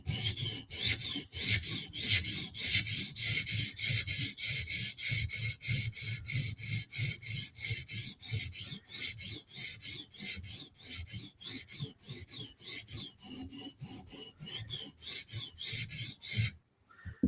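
A blade is drawn back and forth over a sharpening stone in quick, even rasping strokes, dozens of close, fairly quiet scrapes in a steady rhythm that stop abruptly near the end.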